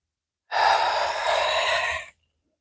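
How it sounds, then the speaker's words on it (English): One long, breathy exhale during a yoga practice, heard alone and close up, rising quickly, holding steady for about a second and a half, then cutting off into silence. "Inhale and exhale."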